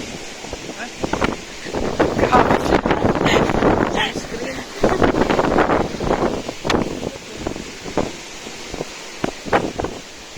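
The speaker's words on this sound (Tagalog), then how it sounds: "It's so windy." Strong mountain wind near the summit of Mt. Mariveles roars and buffets the microphone in heavy, uneven gusts, a constant rushing noise with no voices.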